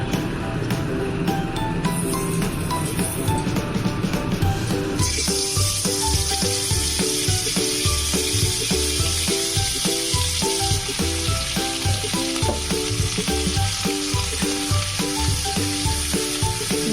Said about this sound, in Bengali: মশলাটাকে একদম মিডিয়াম লো ফ্লেমে এটাকে কষিয়ে নেব 2 থেকে 3 মিনিট মতো